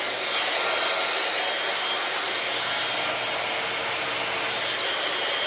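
A hair styling heat tool set on high while working on a heat-friendly fiber wig blows with a steady, loud, even whoosh that holds unchanged throughout, with no voices.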